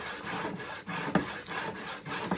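Steel chisel rubbed back and forth on a 300-grit sharpening stone, a soft, close rhythmic rasping scrape repeating about every half second.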